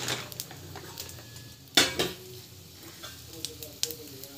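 Chana dal frying in hot oil crackles with a light sizzle while a spoon clatters and scrapes the pan, one loud metallic clank in the middle, close up and with no one speaking.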